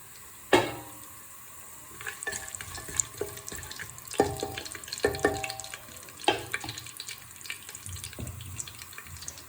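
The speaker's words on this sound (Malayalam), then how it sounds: "ഇനി ഇതിലോട്ട് നമുക്ക് കുറച്ച് കാഷ്യൂ നട്ട്സ് ഇട്ട് കൊടുക്കാം" Soft sizzling of cashew nuts frying in ghee, punctuated by sharp clanks and scraping from a utensil stirring the pan, close by and without speech.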